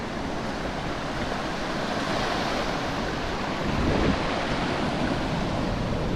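Ocean surf breaking at a beach in Bauang, La Union, a steady broad wash of waves with a fuller surge near the end, mixed with some wind noise.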